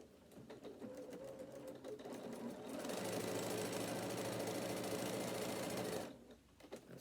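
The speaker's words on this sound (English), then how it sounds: "take it to your machine and stitch" A sewing machine stitches along the edge of a folded fabric piece for a bag, running in a steady close whir that grows louder and denser midway, then stops near the end.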